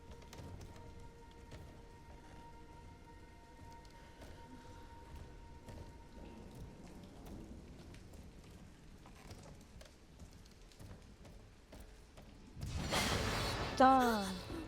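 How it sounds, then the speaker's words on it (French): Rain falls steadily in the Resident Evil Requiem horror game, a faint hiss under low ambient tones, before a loud rolling thunderclap breaks in near the end; a person talks over parts of it. "Moi, j'ai peur de l'orage, déjà,"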